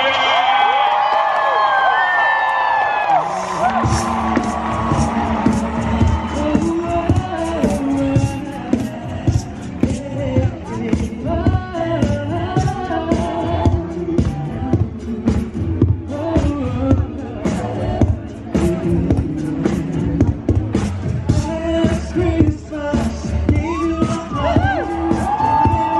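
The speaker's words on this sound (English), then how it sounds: "5, 4, and applause, everybody!" A theme park crowd at Magic Kingdom breaks into applause and cheering on cue after a countdown, with loud, dense clapping, whoops and shouts sustained to the end, while a voice talks over the start.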